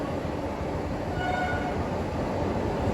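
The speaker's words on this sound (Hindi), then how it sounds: "वाराणसी वंदे भारत ओवरटेकिंग अस," A Vande Bharat Express rumbles steadily past at a railway station while overtaking, a continuous close roar of rolling stock with faint high whines over it.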